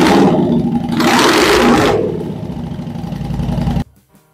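Honda Shadow motorcycle engine running with its exhaust, a loud close idle that swells briefly into a rougher roar and settles before cutting off abruptly near the end.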